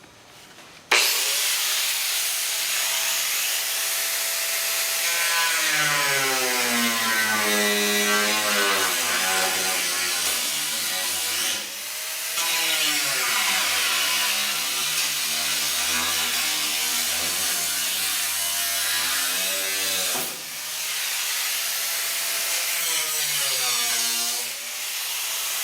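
Loud power saw, apparently a reciprocating or cutting tool, slicing through the sheet-metal front body of a 1941 Dodge Power Wagon along a body line, grinding continuously with wavering pitch and brief pauses near 12 and 20 seconds.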